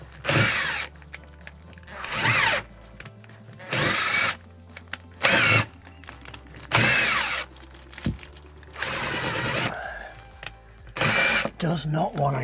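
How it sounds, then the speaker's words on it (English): A power drill in short, loud bursts drives a screw into a Volkswagen Caddy van panel during a campervan conversion, about seven whirring runs with pauses and some talk between them. "Can find it with the drill, but not with the screw"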